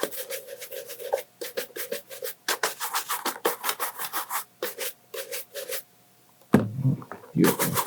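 Someone buffs bespoke Cannon leather shoes during a shoe shine with quick, rhythmic back-and-forth brushing strokes, close and crisp, in bursts with short pauses. A brief pause follows, then softer rubbing handling sounds.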